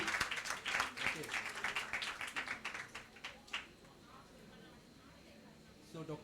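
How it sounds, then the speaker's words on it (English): Brief burst of clapping from a quiz audience at a teachers' competition, fairly quiet and fading within a few seconds, mixed with scattered talk before settling into room noise. "I think all have to clap."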